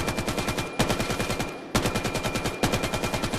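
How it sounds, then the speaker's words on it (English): An AK rifle fires in the VR shooter game VAIL, loud rapid automatic bursts, roughly four strings of shots with brief gaps between them, close and alone with no talking. "Okay, now let's try out the good old AK."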